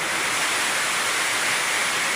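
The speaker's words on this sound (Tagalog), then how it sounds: "Bigla na lamang sumulpot ang napakalakas na bugso ng hangin na may kasamang ulan." A strong gust of wind carries rain, a loud, dense, steady rush of noise with no breaks and no voices.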